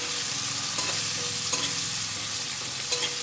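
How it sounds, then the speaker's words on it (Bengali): Cubed potatoes with turmeric and salt fry in oil in a pan with a steady, loud sizzle, and a few soft scrapes from stirring break through the hiss, with no voices. "এবার আলুগুলোকে একদম ভালো করে লাল করে ভেজে নিতে হবে।"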